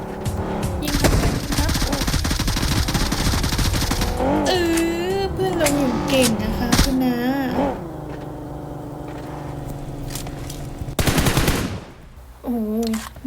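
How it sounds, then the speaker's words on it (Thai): Automatic gunfire in the PUBG battle-royale game rattles in rapid bursts over the opening seconds and returns near the end, loud and dense, mixed with game sounds and excited voices talking. "เพื่อนยิงครับ"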